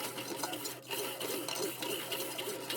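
A Shopsmith runs while retapping the threads of a Stanley 80 thumbscrew, giving a quiet, close, rasping whir with an uneven, pulsing scrape as the tap cuts through the metal.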